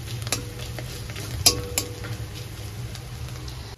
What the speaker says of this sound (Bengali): ডিম আর তেল একসঙ্গেই ভেজে নিচ্ছি